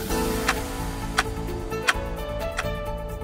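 A clock ticks in a steady rhythm, with sharp tick accents about every 0.7 seconds over a continuous musical bed, forming a short news segment jingle.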